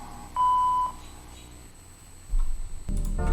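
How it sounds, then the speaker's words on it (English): An answering machine gives its voicemail beep, a single clear steady tone of about half a second. Faint hiss and low thuds follow, then a louder rumbling clatter near the end, with no voices. "please leave a message after the tone"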